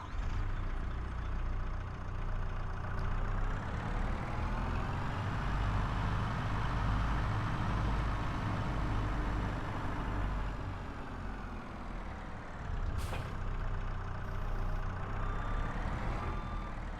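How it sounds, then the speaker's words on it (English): Electric tractor in Farming Simulator 22 running steadily with a low, continuous hum, near and fairly loud throughout, with a brief dip and a couple of short clicks near the end, no talk. "That is the electric tractor. Quiet."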